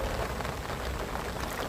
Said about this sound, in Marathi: पाऊस पण जाम चालू आहे